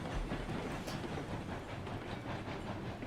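A steam train rolls along the rails in the RailRoads Online video game, with a dense, continuous rumble and rhythmic clickety-clack under a steady hiss that stays loud and even throughout.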